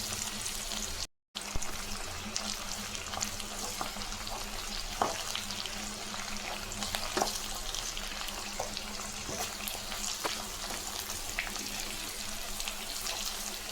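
Drumstick leaves sauté in a hot pan for a chutney, a steady close sizzle and crackle running throughout with a few scattered spatula scrapes and one brief dropout near the start.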